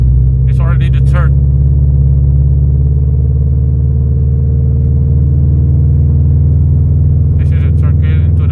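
A 2013 Toyota FT86 automatic with a Motec M150 plug-in harness drones steadily from the cabin as it accelerates and shifts from third into fourth, a soft, even engine rumble with brief voices near the start and end.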